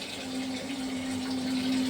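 Tap water pours into a fish tank in a steady, continuous rush that stays even throughout the short stretch, with no talking.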